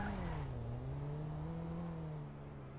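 A car engine in GTA 5 roleplay hums with a smooth, slowly wavering pitch that sags then levels off, fairly loud and alone, fading slightly toward the end.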